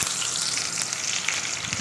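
Continuous hissing sizzle of lemon juice with salt and turmeric hitting a hot pan, bright and crackly, close by with no talking.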